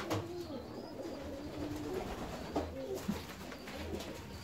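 A young Indian fantail pigeon coos softly and faintly in a few low, rounded calls against quiet background noise.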